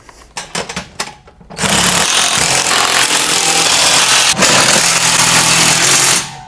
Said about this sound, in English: break out the power tools